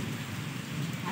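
Steady rain pouring during a thunderstorm, a dense, even hiss of falling drops that holds constant and fairly close throughout, with no voices.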